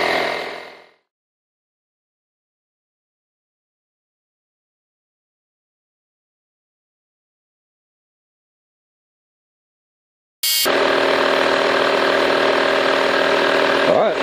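Audew portable tire inflator pumping air into a tire, a steady close mechanical drone that starts abruptly after a long silence, following a brief opening of speech.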